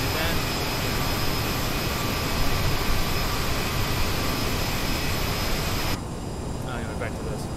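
A Bombardier CRJ jet airliner's engines in Microsoft Flight Simulator roar loud and steady as a dense, unbroken whine, easing a little toward the end.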